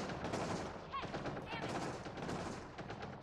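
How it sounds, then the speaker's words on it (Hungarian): Rapid gunfire from enemies in the sci-fi video game Andromeda Atlantis, heard as dense crackling bursts of shots that continue almost without a break for a few seconds. "Ó, nagyon-nagyon lő, nagyon-nagyon kedvesen lő."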